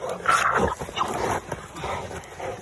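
A working bulldog barks and yips in a few short, close bursts, with a person's voice faintly mixed in.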